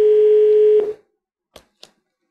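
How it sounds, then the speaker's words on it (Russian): A telephone ringback tone during a call on a live broadcast, one loud steady beep that cuts off, followed by two short faint clicks in silence. "Вот уже пошли гудки."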